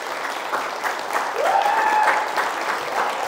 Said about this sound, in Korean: 다시 한번 격려와 응원의 박수 부탁드리겠습니다.